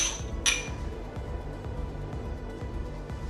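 Drinking glasses clink once in a toast among friends at a table, a single bright tap near the start followed by quieter room clatter and background rustle.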